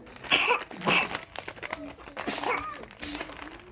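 Several harsh coughs come in short bursts with brief pauses between them, close by and fairly loud.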